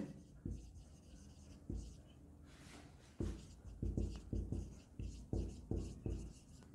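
Marker or chalk writing an amount on a board during an accounting lesson: a series of short, firm strokes tapping and scraping in an uneven rhythm, close and fairly clear.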